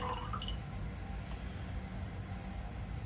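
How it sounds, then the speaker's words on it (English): Distilled water is poured into a glass. A faint, brief trickle and a few drips come early, then give way to quiet background hiss. "I'm going to pour it in this glass, right?"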